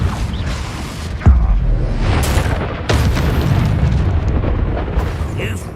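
Confringo blasting spell explosions in the video game Hogwarts Legacy: two heavy booming blasts about a second and a half apart, loud and close, over a constant rumbling combat background.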